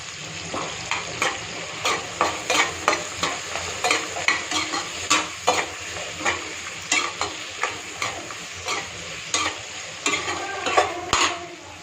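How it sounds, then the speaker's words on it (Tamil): Drumstick pieces sizzle in a hot pan with turmeric while a utensil stirs and scrapes in a steady rhythm of repeated strokes, close and fairly loud, with no talking. "முருங்கைக்காயும் போட்டு வதக்கிடலாம்"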